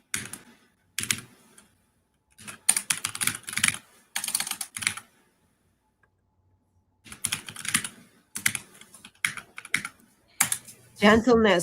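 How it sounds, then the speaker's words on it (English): Computer keyboard typing in bursts of rapid, fairly hard clicking, broken by short silences, with a voice heard briefly near the end. "Gentleness is key. Your keyboard is suffering"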